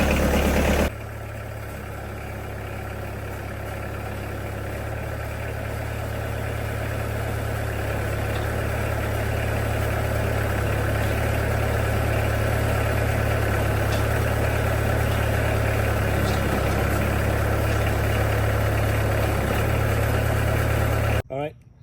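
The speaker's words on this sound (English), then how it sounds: "I'm going to turn on the tractor and test it." A steady engine idles throughout, a low continuous rumble with a droning hum that swells slightly, then cuts off abruptly near the end.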